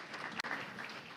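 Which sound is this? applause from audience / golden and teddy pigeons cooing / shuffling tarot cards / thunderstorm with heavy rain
applause from audience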